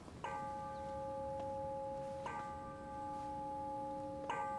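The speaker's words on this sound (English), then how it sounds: "General Shen, the bell means it's time for stewards to be paid" A bell in a palace hall sounds three times at roughly two-second intervals to call stewards for their pay, each strike ringing with a sustained tone over quiet room noise.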